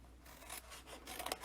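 Scissors cutting angled sections off paper flaps for a stamped treat box, giving a faint close snipping and rasping over about a second and a half.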